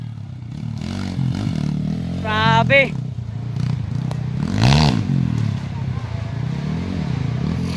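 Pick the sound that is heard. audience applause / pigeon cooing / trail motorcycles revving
trail motorcycles revving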